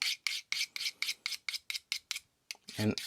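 A Funayuki knife is drawn by hand across a King Hyper 1k whetstone in about ten even, rasping strokes, close and crisp, followed by a short pause and a heavier final scrape.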